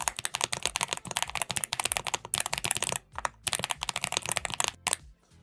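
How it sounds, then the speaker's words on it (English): Rapid, clacky typing on a mechanical keyboard, close and crisp, with brief pauses between bursts of keystrokes. "Let me give it a quick typing test so you can have a listen."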